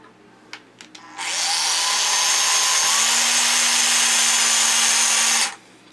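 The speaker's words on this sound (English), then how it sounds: "what I did was I just drilled it a little, just enough to give me a crater to get my pin" Power drill boring into a steel rivet in an AK rifle trunnion: a few light clicks, then a sustained high-pitched whine for about four seconds with a steady tone shift midway, stopping abruptly, loud and close with no talk.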